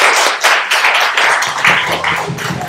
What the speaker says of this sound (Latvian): Aplausi, ļoti gari!